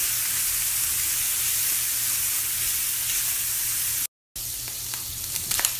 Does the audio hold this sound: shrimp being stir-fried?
yes